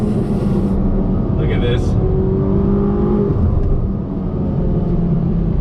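A Ferrari GTC4 Lusso T's engine pulls with a steady, low rumble as it gently accelerates on light throttle, heard from inside the car while someone talks over it.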